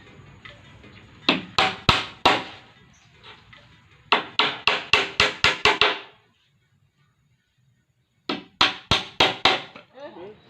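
Nails are hammered into a wooden gazebo frame in quick volleys of sharp, ringing blows, three bursts of four to seven strikes each with short quiet gaps between.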